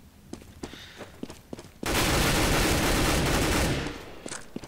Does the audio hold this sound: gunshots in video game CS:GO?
yes